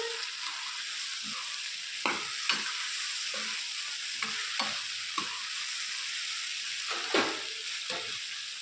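Potatoes and soya chunks stirred in a hot pan, a steady sizzle with repeated scraping strokes of a spoon against the metal at an uneven pace, close and alone.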